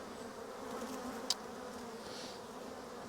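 A steady, dense hum of honey bees swarming around a hive as the wildflower honey is pulled, with a constant low drone under outdoor noise and a brief sharp click partway through.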